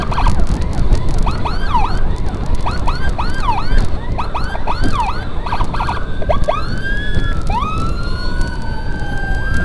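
An ambulance siren wails loud and close, rising and falling in repeated sweeps that later stretch into longer glides, over heavy traffic and engine noise.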